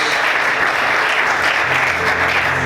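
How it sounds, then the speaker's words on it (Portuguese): A church congregation claps loudly and steadily in praise during a worship service, a dense, continuous wash of many hands that holds without a break. "Vamos aplaudir o Senhor com bastante alegria."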